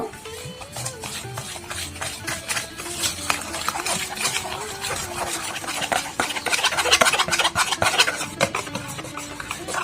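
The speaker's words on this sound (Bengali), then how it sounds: "এখন এই উপকরণগুলো ভালো মতো আবারও ফেটিয়ে নিব।" A sponge cake batter with oil is being beaten in a bowl, producing a rapid, continuous rhythmic whisking and scraping that grows louder toward the end, close and without speech.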